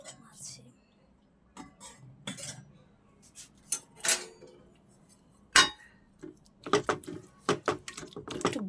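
A ladle scrapes and clinks against a hot pan of pumpkin being mixed with salt, giving scattered metallic scrapes and taps in short bursts with quiet gaps between.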